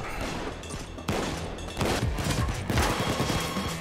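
Automated turrets firing in the heist game Payday 2, rapid crackling bursts of gunfire in quick succession, loud and continuous over a few seconds.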